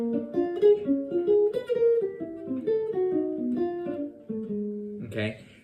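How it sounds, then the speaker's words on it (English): Jazz guitar comps a Bb blues with dominant 7 chords, a clean run of plucked chords moving in steady rhythm, close and clear, ending with a brighter strum. "Dominant 7s would sound like this"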